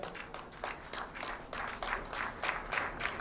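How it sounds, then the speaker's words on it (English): Steady applause from a crowd at a Nigerian traditional wedding, many hands clapping continuously at moderate loudness with no pauses. "Let's keep clapping until he gets to the stage."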